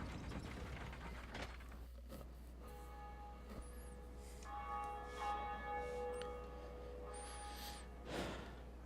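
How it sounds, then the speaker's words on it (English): The Bell of Awakening in the video game Dark Souls rings out with sustained metallic tones over a mechanical grinding of gears and ratchets, resonant and fairly loud, with a low steady drone beneath. "So there's two bells in the game, and I just rang one of them."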